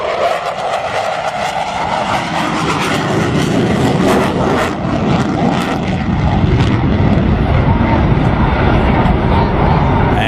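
An F-14 Tomcat jet performs an upright roll at an air show, its engine roar loud and continuous, swelling across the whole stretch.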